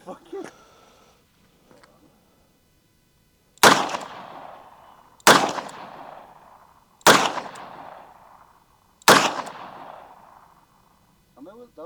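Four sharp, loud .357 revolver gunshots ring out at even intervals, each with a decaying echo, after a brief spoken remark and quiet pause.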